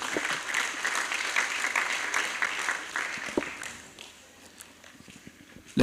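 Dense audience applause fills a university conference hall in Abuja, steady for several seconds before tapering into scattered claps and faint room noise, with a sudden loud thump at the very end.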